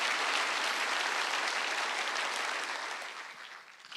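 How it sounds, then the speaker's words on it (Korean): A church congregation claps for the choir during a Wednesday worship service, a steady dense wash of applause that fades out near the end. "성가대 박수 쳐줘요."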